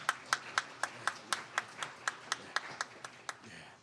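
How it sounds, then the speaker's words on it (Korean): Clapping from a church congregation welcoming a member's son during a Sunday worship service, about fifteen evenly spaced claps in a steady rhythm, fairly close and moderately loud, with no voices. "우리 환영의 박수 하겠습니다."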